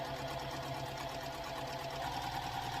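A sewing machine stitches a quilt block in a continuous fast, even whir with a steady mechanical rattle, close and alone, no pauses across the short run.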